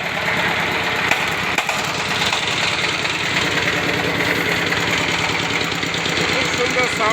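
A Sifang 25 HP diesel engine on a power tiller idles close by, a steady fast knocking chug with rattling vibration and no pauses.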